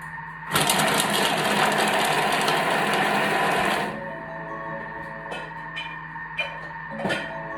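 A Thermomix runs a quick chop of garlic cloves and onions, a loud, high-pitched mechanical whir lasting about three seconds that stops sharply, followed by faint clicks and knocks.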